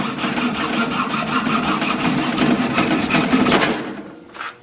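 Steady rhythmic sawing through a shed pronghorn antelope horn with a hand saw, close and fairly loud back-and-forth strokes for about four seconds before the cutting stops.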